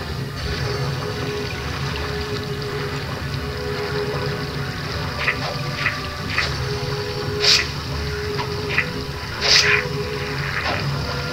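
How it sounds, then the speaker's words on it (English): Water splashing and churning as Alice enters the water in American McGee's Alice, a continuous gushing wash with a few sharper splashes toward the end, under game ambience. "Go in the water, Alice."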